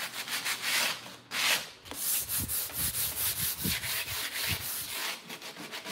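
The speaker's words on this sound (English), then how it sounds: "Sanding over that hardware." Steady rhythmic rasp of 220-grit sandpaper scrubbing back and forth over metal furniture hardware, close and continuous with repeated strokes and no talking.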